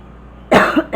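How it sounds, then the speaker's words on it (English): A single close, loud cough bursts out after a quiet moment, followed by a smaller second cough. "I just have a cough."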